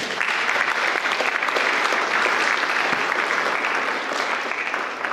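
Sustained audience applause at a spiritual evening gathering on the Bhagavad Gita, a dense, steady wash of clapping hands that runs loud and unbroken throughout.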